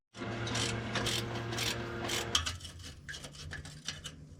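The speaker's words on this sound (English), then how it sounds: "We got a flex head ratchet right here." A flex head ratchet works a 13 mm exhaust clamp on a GMC Sierra or Chevy Silverado with a 5.3 V8 and a Borla ATAK exhaust. It gives steady repeated clicking up close, which becomes sparser and lighter toward the end.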